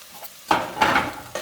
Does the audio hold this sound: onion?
yes